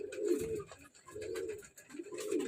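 Racing pigeons, young birds, cooing nearby in three rhythmic, low, throaty coos with short gaps between them, with no talking.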